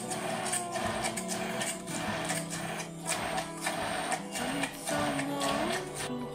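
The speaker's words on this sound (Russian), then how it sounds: "Измельчить все блендером до пастообразной консистенции." A blender purées cooked vegetables with spices and 10% cream into a paste, its motor whirring in repeated bursts that rise and fall in pitch, close and fairly loud, with no talking.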